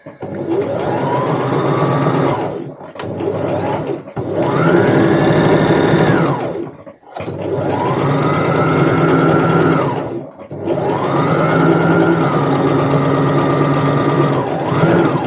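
A sewing machine stitches a tote bag in four long, steady runs separated by short pauses, ending with a small back stitch. The motor whirs loud and close, alone without any talk.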